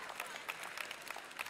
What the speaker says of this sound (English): half the people are clapping